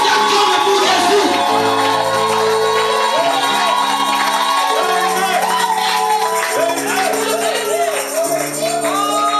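A church congregation cheers and acclaims Jesus, with loud shouts and whoops from many voices over sustained music throughout.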